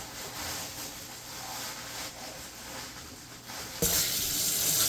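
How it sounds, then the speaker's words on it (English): Tap water runs steadily into a sink while rice is washed, a constant splashing hiss that grows louder and brighter near the end as the flow strengthens. "so I'm going to wash the rice"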